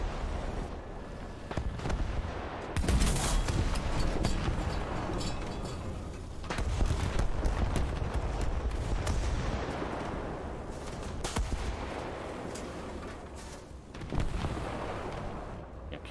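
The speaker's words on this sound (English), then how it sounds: "Shots off to the right there." Gunfire and heavy cannon shots in the War Thunder tank combat video game, a string of loud booming blasts with rumbling tails over constant battlefield noise, no talk.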